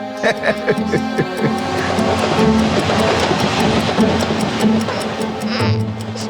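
Interior of a moving passenger train, with a steady loud rumble and hum running throughout and faint rhythmic clicks of the wheels over the tracks.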